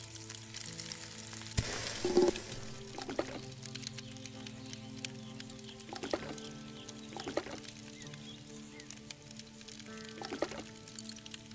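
Meat sizzling as it cooks over a campfire in the western survival game Above Snakes, a steady frying hiss with soft game music underneath and occasional sharper crackles and pops throughout.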